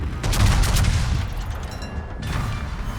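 Guns of the battleship Wisconsin firing in the naval game World of Warships, a loud booming salvo that rumbles and rolls on for a few seconds before fading slightly, heard alone.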